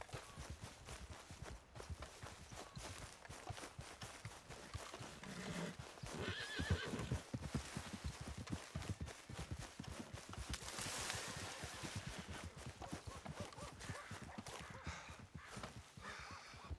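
An agitated horse in Red Dead Redemption 2 whinnies and stamps, hooves thudding busily amid a dense, noisy rush of movement, faint overall with a sharper neigh midway.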